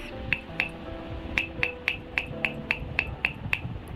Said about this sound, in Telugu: ఇలా ఈ సౌండ్ రావాలి మనం దీని బాటంలో ఇలా ట్యాప్ చేసినప్పుడు